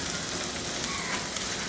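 Onion and chilies frying in a pan for an egg curry, giving a steady, dense sizzle throughout with small crackles and pops and no one talking.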